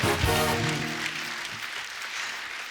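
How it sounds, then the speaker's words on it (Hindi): A studio audience at a Hindi comedy talk show breaks into loud applause that swells quickly, then thins out gradually over a few seconds, with a voice briefly heard at the start. "कंगना जी के लिए जोरदार ताली हो जाए।"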